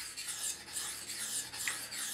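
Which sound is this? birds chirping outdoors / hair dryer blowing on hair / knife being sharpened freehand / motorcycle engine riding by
knife being sharpened freehand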